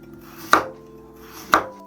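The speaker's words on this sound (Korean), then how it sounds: "당근은 똑같이 얇게 썰어 주시면 됩니다." A kitchen knife cuts thin carrot slices on a cutting board for a potato stir-fry: two crisp, separate chops about a second apart, close and clear over a quiet background.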